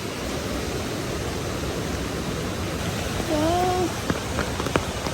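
Steady, dense rush of falling water at Tad Kaeng Yui in Vang Vieng, Laos, continuous and even throughout, with a few brief bird chirps and clicks near the end.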